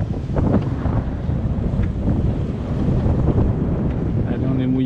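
Strong wind buffets a boat, the SeaYou, at anchor in a Mediterranean calanque near Marseille (Port-Miou, Port Pin, Morgiou), with gusty roaring rumble and sea wash throughout and a voice in the background.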